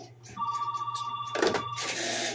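A telephone rings through a set of home-built telephone switches, a steady electronic bell tone holding for a couple of seconds under clicks and rustling handling noise, fairly faint in a room.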